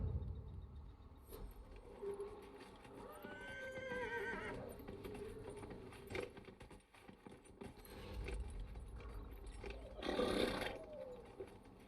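A horse mount in the video game Dragon Age: Inquisition gives a whinnying neigh amid clip-clopping hooves and game ambience, followed later by a louder snort, moderately faint and with no talk.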